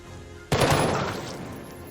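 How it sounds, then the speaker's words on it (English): A sudden burst of gunfire erupts in Jagged Alliance 3, a loud, dense volley of rapid shots that hits hard and then trails off into a decaying rumble. "Shock assaulted and peppered with bullets."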